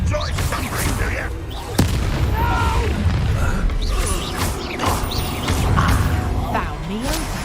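Confringo fire-spell blasts in the Hogwarts Legacy wizarding game, with several booming impacts and mechanical creaks in a busy combat mix while a voice casts spells over it.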